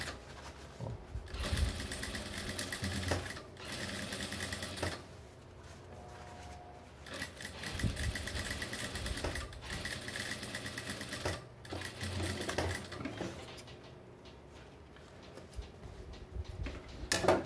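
A sewing machine stitches light camouflage fabric for a jungle hat, running in steady bursts with short pauses between runs, mechanical whir and ticking close and fairly loud throughout.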